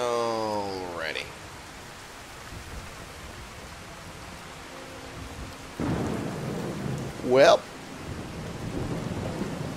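Thunder rumbles through a torrential rainstorm in Skyrim Special Edition, low rolling booms over a steady rain hiss, with someone talking briefly at the start and again near the end.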